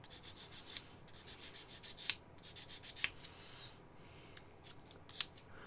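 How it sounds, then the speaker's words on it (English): Sanding stick rubbing mold nubs off a plastic Baneblade model kit part, heard close up as quiet, irregular scratchy strokes with short pauses and a few sharper scrapes. "we've got a sanding stick for rubbing nubs"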